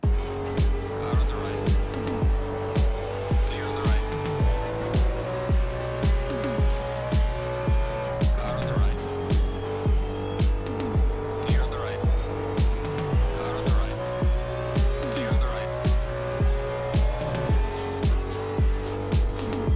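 Race cars in Assetto Corsa Competizione, a steady droning engine tone with a rapid, regular pulsing beat throughout, loud and constant, with no clear talk over it.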